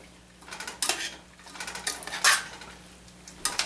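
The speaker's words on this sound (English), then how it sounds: "We're going to stir that through" A spoon scrapes and clinks against a pot while stirring rosé wine braised red cabbage, several close, bright metallic strokes in an irregular rhythm with quieter gaps between them.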